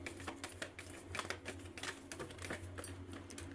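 Tarot cards shuffle softly in a quick, faint flurry of papery flicks and clicks, close by and continuous for a few seconds.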